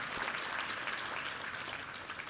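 A church congregation applauds during a Sunday worship service, giving a steady, dense wash of clapping from a large room that sounds somewhat distant and continuous throughout.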